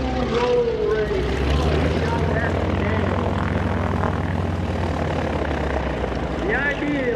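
Aerobatic propeller plane, a Dash 55M, flying a slow roll at an airshow: a steady droning engine and propeller roar holds throughout, loud and continuous, with an announcer talking over it.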